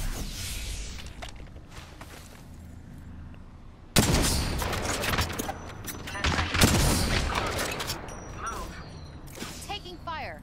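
Gunfire in the Apex Legends battle royale game: a sudden loud volley erupts partway through, followed by repeated shots and impacts, with voices talking around the shooting.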